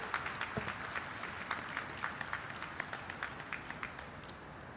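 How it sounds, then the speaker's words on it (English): A large audience gives a round of applause for chief dignitaries on stage at a groundbreaking ceremony for an LG Electronics plant in Sri City, steady crowd clapping with a few sharper nearby claps, fairly distant and even throughout. "join me in giving a very big round of applause for our chief dignitaries on stage"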